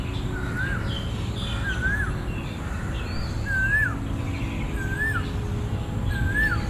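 A koel, a cuckoo, calls in a Bangkok garden: five clear rising-and-falling whistled notes repeated at an even pace, moderately near, over a constant low urban hum and faint insect buzz.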